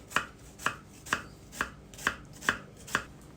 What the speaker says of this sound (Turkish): Soğanları böyle küçük küçük doğruyoruz